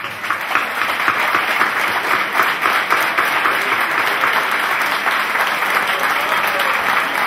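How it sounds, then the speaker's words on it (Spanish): Applause at an awards and diploma ceremony, a dense sustained crowd clapping that stays loud and steady throughout without a break. "Quiero pedir un fuerte aplauso para el señor Luis Ventura."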